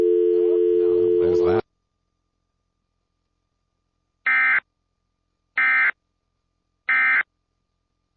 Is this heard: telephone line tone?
yes